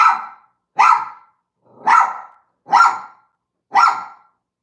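Five loud, close dog barks spaced roughly a second apart in a neighborhood, each a sharp single bow-wow with silence between.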